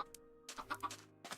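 A Minecraft chicken clucks in a few quick, faint, close bursts after a short quiet opening, with a brief clipped sound near the start.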